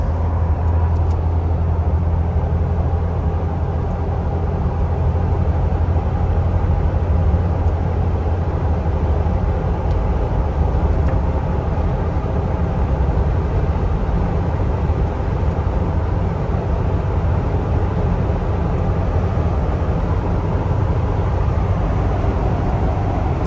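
A one-owner 2004 Jeep Wrangler Rocky Mountain cruises down the road with a steady, even drone of engine and road noise from inside the cab and no clear break for the gear change. No talking.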